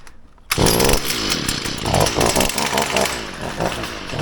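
A gas leaf blower engine catches after a quiet moment without choke, then runs loud and close with a rough, buzzing two-stroke drone that rises and falls slightly as it warms up.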